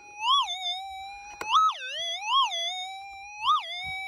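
Minelab SDC 2300 gold detector sounding off over a target in the field: loud warbling, siren-like rising and falling tones repeating in swells, alone with no voices.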